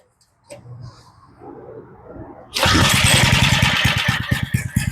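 Quiet rattling and pulls give way to a small edger engine, with a replacement motor, catching and roaring into a loud, sputtering run that continues to the end.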